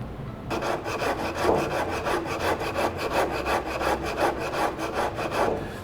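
Steady back-and-forth strokes of hand sanding over epoxy filler on a wooden door, a close, rhythmic scratchy rasp repeating evenly throughout with no voices.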